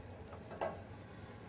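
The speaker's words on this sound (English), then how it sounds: "we let it cook for a little while until our sage is almost golden brown" Sage leaves frying in oil for a squash soup give a steady, soft, low sizzle with a brief louder crackle partway through and no voices.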